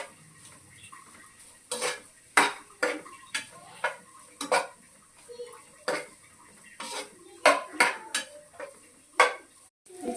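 Fried rice being mixed with spices in a pan: repeated loud metal scrapes and clanks of a spatula against the pan in an irregular rhythm, over a faint background sizzle.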